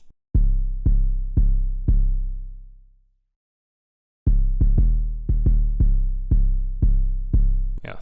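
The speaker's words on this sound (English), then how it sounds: "Now we dive into the 808" Deep 808 bass pattern from an FL Studio beat in a smooth trap style, heard alone: four booming sustained hits, a long decaying tail and a pause, then a faster run of repeated punchy low notes.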